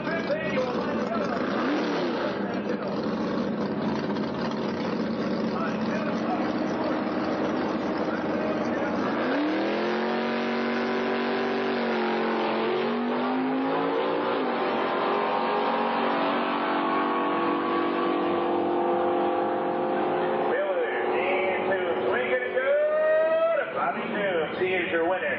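Oldsmobile drag race cars at Norwalk Raceway, Ohio, at the 1994 Joe Mondello Oldsmobile Nationals roar as engines rise steadily in pitch and fade, heard behind an announcer talking throughout.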